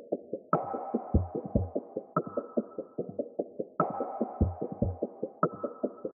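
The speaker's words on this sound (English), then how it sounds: "I added this perc loop from like a free cymatics kit" Percussion loop from a free Cymatics sample kit, quick rhythmic clicks and soft thumps repeating in a steady pattern, with brighter hits marking each bar, clear and alone.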